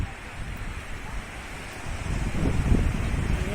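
Sea waves break on a beach in Rabat under a steady rush of wind buffeting the microphone, with the surf swelling louder toward the end.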